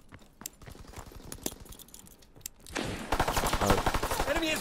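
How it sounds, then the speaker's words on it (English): First-person shooter gunfire in a ranked search-and-destroy match: a string of sharp single shots, then a denser burst of rapid automatic fire growing louder toward the end. "This kid seriously ate every bullet I shot at him, and I didn't miss a shot"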